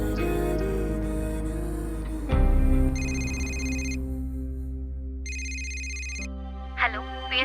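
A telephone rings in two bursts of electronic trilling, each about a second long, with music and a low rumble beneath and a brief voice near the end.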